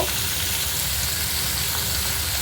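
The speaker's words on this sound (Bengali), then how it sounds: "এটা আলু কুমড়ো ভেজে নেব" Potato and pumpkin pieces frying in hot oil, giving a dense, even, continuous sizzle close up with no pauses or voices.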